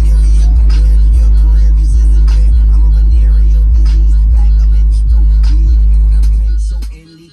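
Deep, booming bass thumps repeat in a steady beat, loud and close, from a JBL subwoofer in a Maruti Baleno car sound system, fading out near the end.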